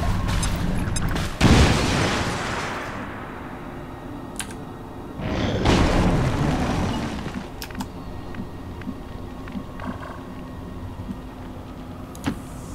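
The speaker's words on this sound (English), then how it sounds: "Grenade out!" A grenade in the XCOM 2 video game blows out a wall with two heavy blasts a few seconds apart, each a loud close boom that rumbles away. Faint clicks and ticks follow.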